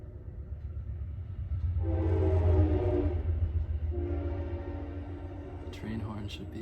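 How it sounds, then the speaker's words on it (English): A passing train sounds its horn in two long, blaring blasts over a deep rumble of rolling wagons, moderately distant, with voices talking over it. "Train horn should be involved in sound healings too."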